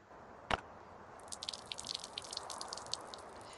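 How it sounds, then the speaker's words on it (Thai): Short water drip followed by a run of faint trickling, splashing droplets, quiet and alone, as a survivor character drinks water in the video game Last Day on Earth. "เดี๋ยวกินน้ำแป๊บ"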